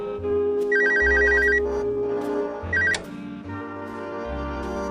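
A telephone rings in repeated electronic trills in the video game Dayshift at Freddy's 3, layered over looping game music with brief pauses between rings.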